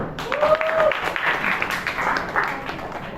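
Classroom applause for a student group that has just presented, a scattered patter of clapping from a small class, moderate and steady, with a brief voice at the start.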